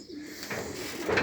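Pigeons cooing at a pigeon loft in Canappeville, France, a low soft coo rising near the end of a short burst against faint background noise, with no voices.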